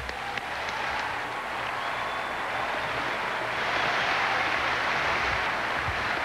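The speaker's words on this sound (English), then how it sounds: "Everybody's clap your hands." Sustained crowd applause fills an arena at a 1999 Indiana vs Iowa college basketball senior day, a dense steady roar of many hands clapping that swells slightly toward the end, with no voice over it.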